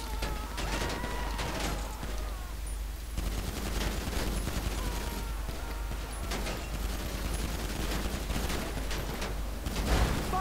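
Rapid vintage pistol gunfire in Grand Theft Auto V, a dense string of shots crackling continuously over loud game noise, fairly close.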